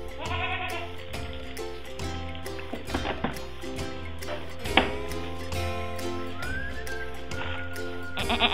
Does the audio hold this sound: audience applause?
no